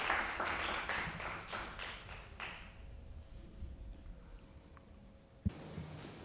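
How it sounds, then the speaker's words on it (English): Audience applause at an award press conference, a burst of clapping that fades out after a couple of seconds, followed by a quiet room with a single thump near the end. "a round of applause, please"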